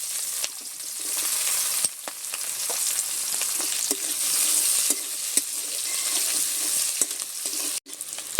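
Chopped onion frying in oil with cumin seeds and chillies makes a constant hissing sizzle, punctuated by regular scraping stir strokes and occasional clicks of a utensil on the pan.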